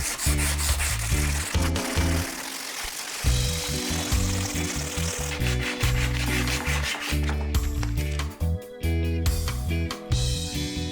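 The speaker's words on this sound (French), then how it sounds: "Poncer un petit peu l'axe, ça m'a pris quoi, une demi-heure avec du papier de verre" Sandpaper rubs back and forth over a metal scooter handlebar axle in a rapid, rasping rhythm, loud and close throughout with brief pauses, while fitting a street handlebar.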